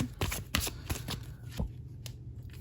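Tarot cards being shuffled by hand, a quick run of crisp riffling slaps and flicks, close and clear with no talking.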